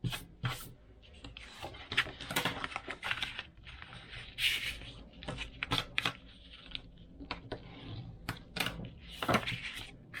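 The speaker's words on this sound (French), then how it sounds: "Marquez bien tous les plis." Paper being creased and folded into a chocolate-bar pouch, with repeated dry rubbing, scraping strokes and short crinkles coming close up in irregular bursts, no talking.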